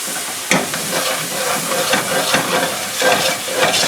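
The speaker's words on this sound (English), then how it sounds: "And now we can put our beef stock in there." Beef stock hits hot flour in a pan and gets stirred, producing a loud, continuous hissing sizzle with bursts of scraping and bubbling throughout.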